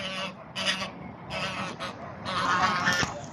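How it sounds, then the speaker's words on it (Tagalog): Ducks quacking and honking in bursts at a lake park, several nasal calls in quick succession at moderate distance over outdoor background noise. "Look, there's a mini duck there."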